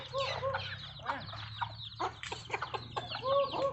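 Free-range domestic chickens cluck and call repeatedly at close range as a man calls them, several birds overlapping in an irregular, busy chatter with a low hum underneath.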